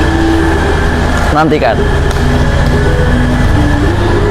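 Taksaka New Generation passenger train running at night between Purwokerto and Yogyakarta, a steady loud rolling rumble with a constant onboard hum, a brief sweeping whine in the middle and a voice speaking over it.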